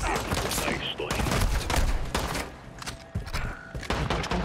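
Rapid gunfire erupts in the Call of Duty: Modern Warfare 2 (2022) campaign, bursts of sharp shots and thuds in dense, uneven volleys with brief gaps, loud and close.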